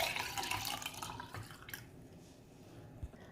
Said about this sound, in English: Now after straining, I'm just going to be transferring this to a cup.